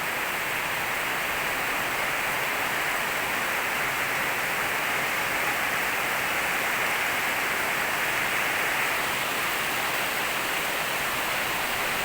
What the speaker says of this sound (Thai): ฝนตกแรงมากเลยค่ะทุกคน